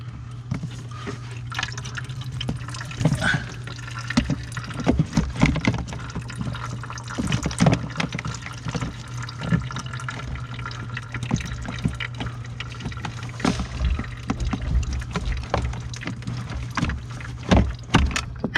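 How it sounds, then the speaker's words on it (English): Antifreeze draining from the heater core of a 1985 Pontiac Fiero GT, a continuous trickle with irregular drips and splashes of liquid, close by and fairly quiet, no voices. "There's a lot of antifreeze coming out of there."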